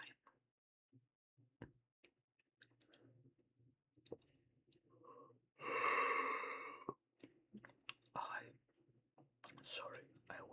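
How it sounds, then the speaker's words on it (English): A whispering person gives a loud, drawn-out yawn lasting about a second, broadband and breathy, in a quiet room between soft whispers, breaths and small clicks. "Sorry, I was yawning."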